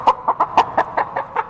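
A chicken clucks in a quick run of about seven sharp, evenly spaced clucks, close and loud, with no other voices.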